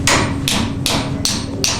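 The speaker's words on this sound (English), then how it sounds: "you got to hammer out all the hammer marks." Copper sheet being hammered into shape: five sharp, evenly spaced metal strikes about every half second, close and loud over a steady low hum.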